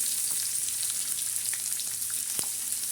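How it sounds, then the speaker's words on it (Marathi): Onion frying in oil with curry leaves, a steady close sizzle with light crackles and a few stirring taps, continuous and fairly loud. "कढीपत्ता टाकल्याच्या नंतर आपण कांदा टाकणार आहे"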